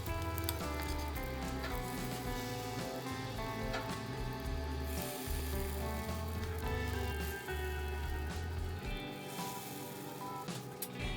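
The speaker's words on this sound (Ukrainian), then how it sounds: "На розігріту пательню додаю трішки топленого масла, можна смажити і без жиру, млинці не пристають." Hemp-flour pancakes fry in a hot pan with a little ghee, giving a steady, continuous low sizzle throughout, with no talk.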